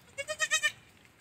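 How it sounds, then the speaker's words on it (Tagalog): A goat bleats on a small farm where two healthy baby goats were just born: a quick run of five short, wavering cries, fairly quiet and otherwise alone. "nabiyayaan po tayo ng dalawang malulusog na baby goats"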